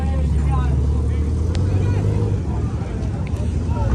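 A turbocharged Honda Civic Si revving at a modified car show rev battle, a loud low engine drone with rising and falling pitch, a crowd talking and shouting over it.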